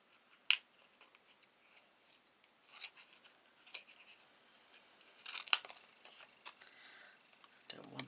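Small, very sharp scissors fussy-cut around a stamped card stock image, giving faint scattered snips and crisp clicks with soft paper rustles, quiet and close with pauses between cuts.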